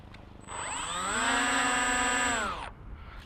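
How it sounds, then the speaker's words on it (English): Three electric motors on a tri-motor RC model plane spin up together outdoors on a slope, a loud steady whine with stacked rising tones that holds for about two seconds, then cuts off sharply into quiet wind. "It's the sound of 3 motors."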